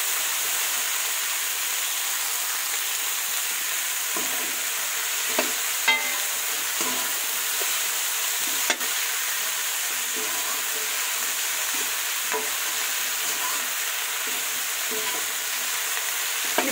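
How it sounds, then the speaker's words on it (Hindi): Cauliflower sabzi sizzling steadily in a hot pan, a dense continuous fry hiss with occasional scrapes and clicks of a spoon stirring, close and alone. "अभी इसको हम पकने देंगे थोड़ी देर तक"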